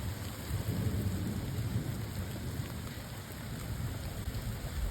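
Steady rainfall with a constant soft hiss and patter, continuing evenly without pauses, fairly close by.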